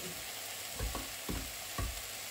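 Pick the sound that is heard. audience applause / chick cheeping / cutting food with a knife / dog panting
cutting food with a knife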